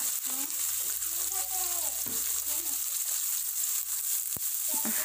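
Washed chayote squash goes into a pan of sautéed spice paste, setting off a steady close sizzle and hiss of frying that runs throughout, with a few soft stirring clinks and brief background voices.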